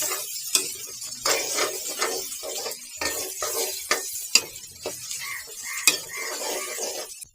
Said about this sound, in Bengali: এবার আমি পেঁয়াজগুলো দিয়ে দিচ্ছি আর একটু তেল লাগবে মনে হয় আমি দিয়ে যাই একটু পেঁয়াজগুলাকে আমি একদম বেরেস্তা করে ফেলি